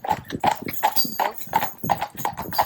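Steady trotting hoofbeats clip-clop in a brisk, even rhythm, close and fairly loud, with no other sounds competing.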